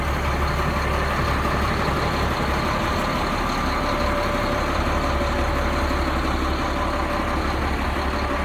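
A Sterling fuel and lube truck engine idles steadily nearby, a constant low diesel rumble with even mechanical texture holding without change throughout.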